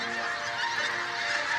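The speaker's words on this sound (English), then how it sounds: "Every morning, like clockwork, the geese leave their roosts on the wetlands to feast upon Holkham's farmland." Geese honk as they fly from their wetland roost over Holkham farmland at dawn, a dense, continuous chorus of many overlapping calls at moderate distance.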